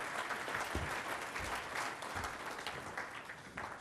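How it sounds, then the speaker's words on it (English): A large crowd at a Junior Achievement business hall of fame dinner applauds for nearly four seconds, a thick, even wash of clapping hands with no talk on top, staying at a steady level throughout. "I think that deserves some applause"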